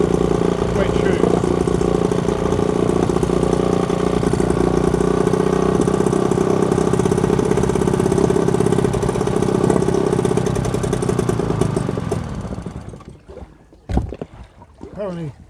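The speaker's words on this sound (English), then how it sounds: "Apparently you don't have a stop button, you have to put your hand over the carburetor, the air intake, stops the air coming in, stops the engine." A small petrol engine on a boat runs at a steady, loud idle, then cuts out as a hand covers the carburetor air intake. A few faint knocks follow in the quiet afterward.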